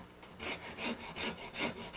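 A Shinto rasp shapes the wooden body of a guitar with steady, rhythmic abrasive strokes, about three per second, close and fairly loud.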